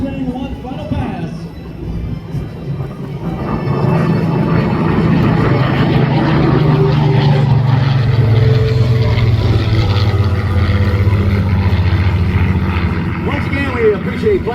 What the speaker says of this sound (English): The B-51 Mustang, one final pass.